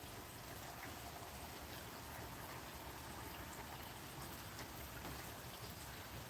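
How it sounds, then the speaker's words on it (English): Rain falling outside, a soft steady hiss of drops that stays faint and even throughout with no voices. "the rain is kind of ruining the fun."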